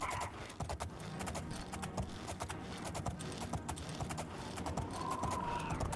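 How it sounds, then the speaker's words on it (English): Horse hooves clip-clop in a steady trotting rhythm as a rider climbs a mountain in Oblivion, close and clear, with little else around them. "I hate going up mountains with a horse."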